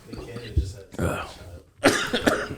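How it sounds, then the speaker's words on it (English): A cough bursts out close by at a New Year's Eve gathering, a short rough burst near the end following a throat-clearing sound, with chatter and background noise earlier. "I was about to cough"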